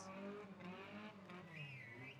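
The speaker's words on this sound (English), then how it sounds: "We're going to get some reverse donuts from the Maryborough 32 in front of the grandstand." A junior sedan race car, number 32 from Maryborough, spins reverse donuts before the grandstand at Rockhampton Speedway with its rear caster bar broken. Faint, distant tyre squeal rises and wavers continuously over an engine drone.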